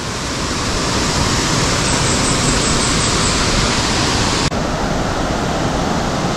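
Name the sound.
waterfall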